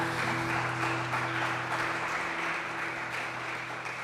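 Church congregation applauding during a live worship service, a steady wash of clapping sustained throughout over a low, constant hum with no speech.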